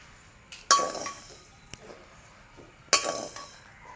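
Two sharp clinks of metal against a pot, with a few softer taps between, close by and with no talking, as cooked food is transferred into another vessel while making payasam.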